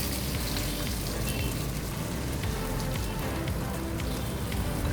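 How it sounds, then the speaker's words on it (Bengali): Rice fries and is stirred in hot oil with cardamom, cinnamon, cloves, star anise, mace and bay leaves for a Kashmiri pulao, giving a dense, steady crackling hiss close by throughout, with no talking. "খুব ভালোভাবে নাড়াচাড়া করে চাল ভেজে নেব"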